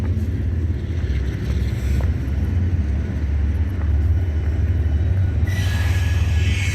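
A train rolls across a lit rail bridge downtown at night, a steady low rumble of wheels and cars running continuously, with a brief high squeal near the end.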